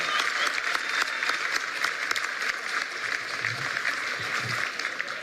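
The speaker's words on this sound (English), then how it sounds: "Let's give another round of applause for Louis and Stephanie for sharing their story." An audience at a public education event applauds steadily, with dense, even clapping that fills the whole stretch at a strong, sustained level.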